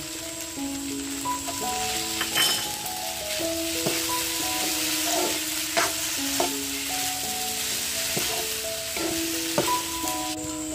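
Potatoes frying in a pan over a wood-fired stove for sabudana khichdi, a soft continuous sizzle with occasional stirring clicks beneath a steady melodic background.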